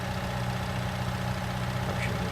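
A skid steer idles in Farming Simulator 19 with a steady, unchanging low engine drone that runs on evenly and fills the whole stretch.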